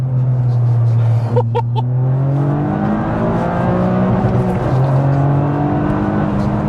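A Toyota GR Yaris pulls hard under acceleration, its engine note rising steadily and loud from inside the car, with brief clicks early on and no talking.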